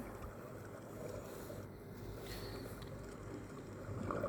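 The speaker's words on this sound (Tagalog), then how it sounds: "Lakas ng hangin." Steady, strong wind rushing and buffeting the microphone, a continuous roar that swells slightly toward the end, with faint water movement underneath.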